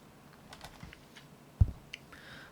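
Key presses on an HHKB Professional2 Type-S keyboard, a few soft scattered taps with one sharper thump, close and quiet against a hushed room.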